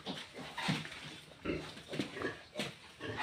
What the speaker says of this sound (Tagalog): Nagde-labor ng mama pig ko.